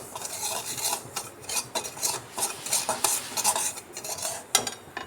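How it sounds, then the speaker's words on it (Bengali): Dry semolina being roasted in a pan and stirred, with repeated scraping and rasping strokes of the spoon against the metal in an uneven rhythm, close and fairly loud. "তো সুজিটা আমি একটু হালকা করে ভেজে নেব।"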